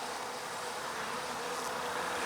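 Honey bees buzzing around an opened beehive during a hive inspection, a soft, continuous hum with no breaks, fairly faint and steady throughout.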